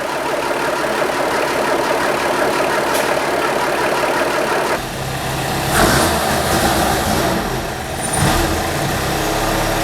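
A Renault 9 engine idles loud and close with a steady, slightly uneven mechanical rumble; the tone shifts roughly midway and a couple of brief louder bumps follow, with no voices.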